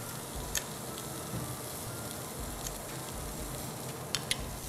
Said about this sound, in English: Once they start sizzling and you can see the juices catching at the base of the pan